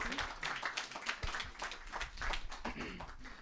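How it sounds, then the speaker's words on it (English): An audience claps in a room after a speaker is introduced at an evening program of the Rosenbach at The Kelly House, producing a steady, fairly faint patter of many hands throughout. "Let's give him a round of applause."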